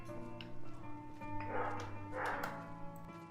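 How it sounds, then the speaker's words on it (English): A dog barks in the background, two or three short muffled yips over a steady tonal game music bed. "Sorry if you hear my dog barking in the background."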